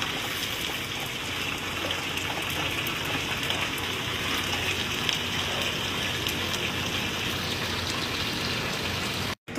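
Eggplant pieces frying in hot oil until red and crispy, a dense, steady crackling sizzle that runs unbroken and close, then cuts off abruptly at the end.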